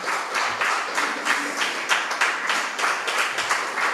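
A church congregation claps together at a Tamil Christian service, dense rapid applause continuing for a few seconds with loud, close hand claps and faint voices mixed in.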